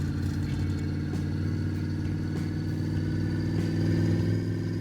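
V8 engine of a Chevrolet Bel Air hums steadily while driving, a constant low rumble with a slight swell in revs near the end and no voices.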